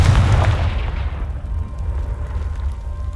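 Confringo spell explosion in a Harry Potter-style video game, blasting apart a pile blocking a stairwell: one loud, close, low booming blast that decays into a long rumbling tail with no talking.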